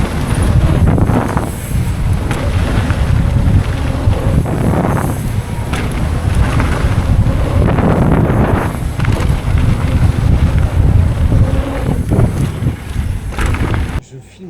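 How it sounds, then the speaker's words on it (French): Wind buffets the microphone on a mountain trail in La Bresse, a constant low roar with gusts swelling and fading throughout. "Il y a un petit peu de vent quand même."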